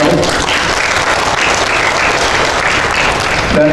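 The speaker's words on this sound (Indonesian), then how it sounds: "tepuk tangan untuk Pak Hafid" Audience applause for Pak Ustadz Hafid, the secretary general, at an education outreach gathering on parent and child collaboration, a steady, dense clapping from a crowd that fills the room without break.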